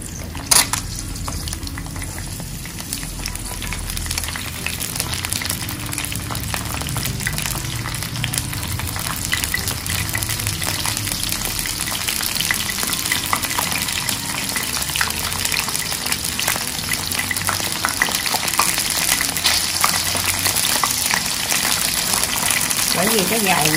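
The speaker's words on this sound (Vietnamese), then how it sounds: "Mình chiên với cái lửa lớn luôn" Crab sizzles and bubbles in hot oil over high heat, a dense continuous crackling hiss that grows gradually louder, with a person talking at times.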